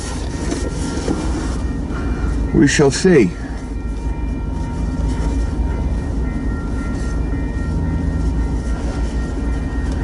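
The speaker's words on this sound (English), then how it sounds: "we should have a westbound Union Pacific train here any minute too" A westbound Union Pacific freight train rumbles steadily past with a continuous heavy roar and rail clatter, while a voice briefly speaks over it.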